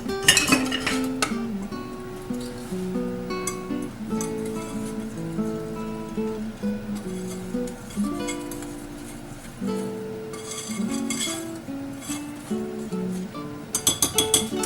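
Baking powder, salt and flour for snickerdoodle cookies are stirred together in a bowl. A utensil makes continuous light clinks and scrapes against the bowl for about fifteen seconds over faint background music.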